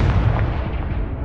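A spell blast in Hogwarts Legacy erupts as a loud, booming burst that fills the moment at close range and rumbles briefly before trailing off.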